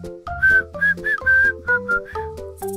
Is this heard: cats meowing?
no